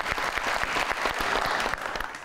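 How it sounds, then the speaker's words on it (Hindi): Studio audience applause on a television talk show, a dense burst of clapping that stays steady throughout and fades slightly at the end, with no talking over it. "बहुत सारी तालियों में"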